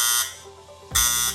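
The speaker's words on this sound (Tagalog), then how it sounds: "pag pinindot ko, inopen ko po siya, ito po ay buzzer" An electrolyte tester machine sounds its buzzer in two loud, harsh bursts close by, the first cutting off and the second starting after a brief quieter gap, with no speech over it.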